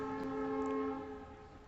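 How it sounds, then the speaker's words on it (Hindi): Vehicle horns sound outdoors with long steady tones, a sustained blaring horn chord held for over a second before easing slightly, with no talking. "ये ऐसे हॉर्न बजा रहे हैं जैसे कल नहीं आएगा।"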